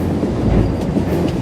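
Loud, close rumble of a train rolling on rails in a Star Wars video game, a dense continuous roar with faint rhythmic clatter throughout the short stretch.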